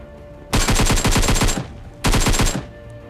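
Automatic gunfire in PUBG Mobile comes in two loud, rapid bursts of evenly spaced shots, the first lasting about a second and the second shorter, heard alone without talk.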